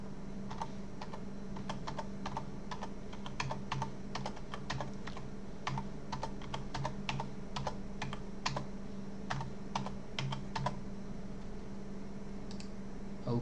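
A password is typed on a computer keyboard. The keystrokes click steadily and close up, with uneven rhythm, for the whole stretch.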